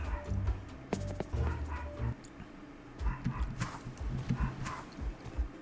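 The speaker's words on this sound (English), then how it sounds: "I think he's barking at the poor people with the accident though" A dog named Cloud barks repeatedly outdoors, the yaps coming in short irregular bursts at a moderate distance, with muffled thumps and scuffing in between.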